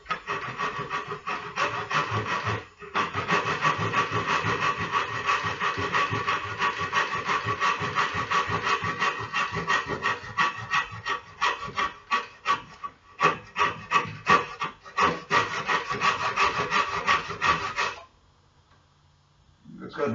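Hand saw cutting wood for a model boat, with rhythmic back-and-forth rasping strokes that grow quicker and more pronounced toward the end before stopping abruptly.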